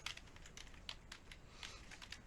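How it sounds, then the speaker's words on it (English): Computer keyboard being typed on, a quiet patter of close, light key clicks in uneven bursts. "So here's where you just type in the answer."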